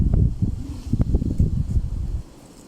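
Gusty wind buffeting the microphone outdoors among swaying sunflowers before rain, a loud, close, low rumbling roar with irregular surges that drops away near the end.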